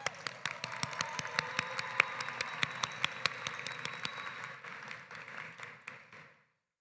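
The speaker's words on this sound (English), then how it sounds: "Give yourselves a round of applause." Graduates at a college commencement ceremony applaud in a large hall, a dense wash of many hands clapping at moderate distance that thins and fades out near the end.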